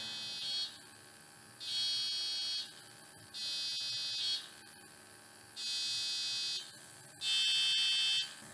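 Micro:bit running a touch-sensor music program sounds five short electronic buzzing tones in a row, each about a second long with gaps between, over a faint background hum.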